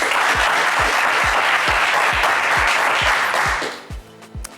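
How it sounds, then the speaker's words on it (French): Audience applause at a live show, a loud burst of dense clapping over a steady regular thump, cutting off abruptly near the end and leaving a few faint sounds. "Allez, on peut vous applaudir quand même"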